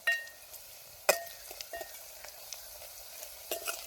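Almonds hit a hot oiled pan and fry with a soft, steady sizzle, broken by occasional clinks and scrapes of a utensil stirring against the metal.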